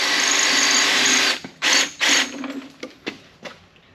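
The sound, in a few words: power drill drilling with a dull bit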